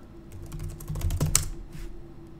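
Quick keystrokes on a computer keyboard entering a terminal command, a short run of clicky taps building to a cluster of louder presses, then a pause, heard close and alone.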